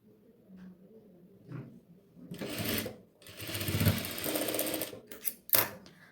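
A sewing machine stitches apron fabric in rapid bursts, starting and stopping several times with short quiet gaps between runs, close up and loud.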